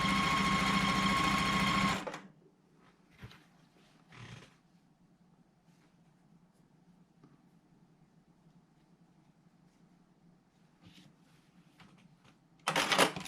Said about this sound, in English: we're lining up that folded edge, and we're going to stitch right along that side